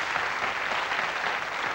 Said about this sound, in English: we'll have a nice round of applause for a volunteer